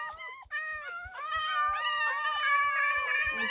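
A cat meows in a long, rising and falling wail close by, sounding strained and insistent like a caterwaul, over faint low thumps, with no talking.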